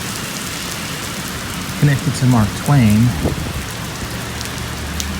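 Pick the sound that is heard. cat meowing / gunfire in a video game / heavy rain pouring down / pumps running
heavy rain pouring down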